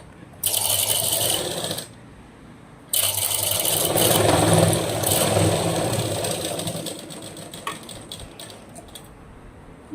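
A sewing machine stitches blouse fabric in two close, loud bursts of rapid whirring and rattling, separated by a short pause, with the second run slowing and trailing off into softer intermittent clicks.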